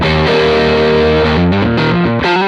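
Loud, saturated distorted guitar through a boosted Matchmore D30 Channel 2 amp simulator plays held notes and a short descending run, with thick overdriven gain and no voices.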